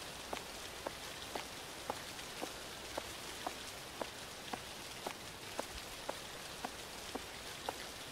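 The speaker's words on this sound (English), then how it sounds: "This rain effect." Rain falls in the horror video game The Caregiver as a faint, steady patter. Sharper drip ticks recur at an even rhythm of roughly one every half second.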